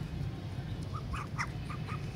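Ducks kept as pets give a few faint, short quacking calls at a distance, spaced irregularly over a steady low background rumble, with no talking.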